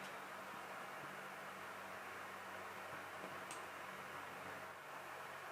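A quiet, steady whooshing hum of a Caframo Chinook electric desk fan running on high speed, even and unbroken throughout, with a faint tick partway through.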